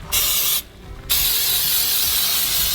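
A whole smoked pig is sprayed down in two close, loud hissing bursts of spray, the first brief and the second sustained after a short pause.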